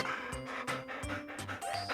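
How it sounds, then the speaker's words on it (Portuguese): A dog panting in quick, rhythmic breaths, close and fairly loud, with short pulses repeating throughout and no talk. "É o cachorro."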